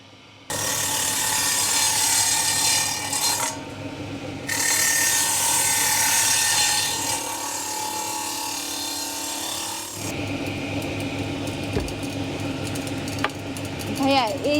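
A handle is fitted onto a wooden cricket bat in a workshop. Loud, sustained mechanical whirring and grinding comes from machinery or tools, with pauses and knocks between bursts, and voices can be heard nearby.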